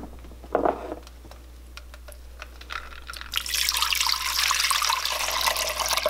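Ice water poured into a bowl to wash freshly made homemade butter on a farm, a steady close splashing and trickling that builds after a few soft clinks and continues to the end.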